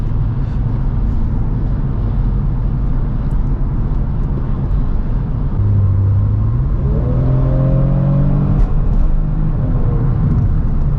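Kia Stinger GT2 fitted with a Borla active valve exhaust, a loud, deep exhaust drone from inside the car as it accelerates in sport mode, the engine note rising steadily in pitch partway through.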